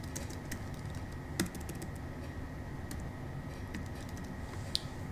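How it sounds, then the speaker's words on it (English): Fingers tapping out a password and full name on an iPhone's on-screen keyboard while setting up Apple Mail, a steady run of soft, close clicks with a couple of sharper taps and no voice. "Enter your password and type in your full name."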